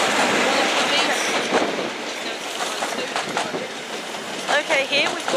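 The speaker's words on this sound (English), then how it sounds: "coming in here is 1536 Great Western Railway service to Penzance." Great Western Railway service to Penzance pulling into Liskeard station, a steady rumble and rolling clatter of carriages close by with faint squeal near the end, voices audible over it.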